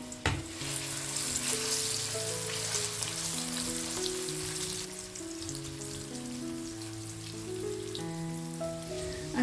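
Masala-coated prawns fry in hot oil, a continuous close crackling sizzle that runs steadily throughout under soft background music, with no talking.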